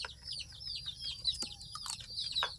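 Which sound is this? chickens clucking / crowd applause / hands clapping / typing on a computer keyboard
chickens clucking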